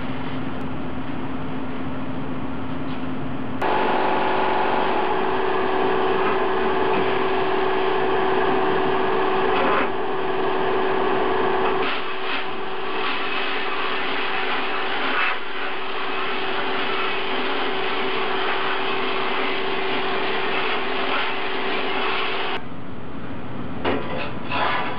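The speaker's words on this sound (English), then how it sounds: "It's kind of been a bit of a pain to blast these things because they're bigger than the blast cabinet." Abrasive blasting of inner fender parts from a 1976 Mazda RX-5 Cosmo in a blast cabinet extended with plastic, a steady loud rushing hiss that holds for about twenty seconds with slight changes in tone.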